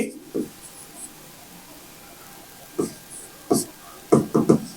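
Pen or marker strokes writing a math expression on a board during a Class 9 polynomial lesson, a few scratchy bursts near the end with quiet gaps between.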